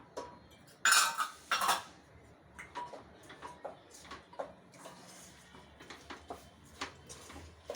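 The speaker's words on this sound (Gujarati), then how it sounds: "હવે આપણા ઘી છૂટું પડે અને આપણો ગોળ ઓગળી જાય ત્યાં સુધી આપણે આને મિક્સ કરતા રહેવાનું છે" A spoon works through jaggery and ghee in a pan for fada lapsi, giving two loud metallic clanks early on, then a steady run of lighter scraping and tapping strokes, close and alone.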